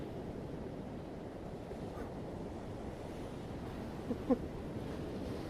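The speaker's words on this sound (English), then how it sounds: "The waves crash against the shore, pushing him away." Ocean surf rolls steadily against a shoreline, a continuous low wash of breaking waves with wind noise, fairly distant and even, with a couple of brief knocks near the end.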